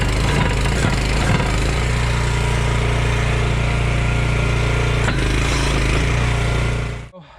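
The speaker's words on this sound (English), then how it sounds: "I will use the hydraulically adjustable wedge and wiggle it up and down to free this off" A firewood processor's hydraulic adjustable wedge wiggles up and down to free a jammed log, a loud steady engine and hydraulic drone with creaking wood strain, cutting off abruptly near the end.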